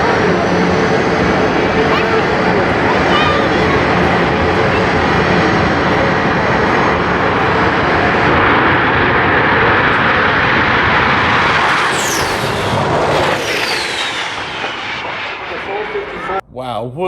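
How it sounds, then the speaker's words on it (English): Top-fuel dragsters roar down a drag strip at 250 mph in a continuous, very loud engine thunder that carries for many seconds and then fades, with crowd and announcer talk mixed in. "weren't those dragsters fantastic? 250 mile an hour, and he even pulled the parachutes out before he got to the end"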